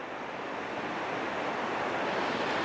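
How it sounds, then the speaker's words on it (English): Canyon river water rushing and welling up around a rock, a steady broad wash of flowing water, close and continuous with no voices. "So the water is coming up around this rock."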